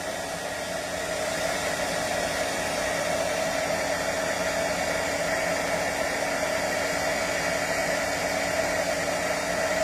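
A heat tool blows hot air over embossing powder on a papercraft piece, a steady loud fan whir that holds evenly close up with no talking.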